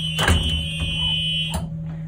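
A Thomas school bus emergency exit buzzer sounds during a pre-trip check, a loud steady electronic tone with a couple of clicks and a short break near the end.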